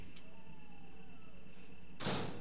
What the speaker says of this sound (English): Love hearing that sound of a door unlocking in a Resident Evil game.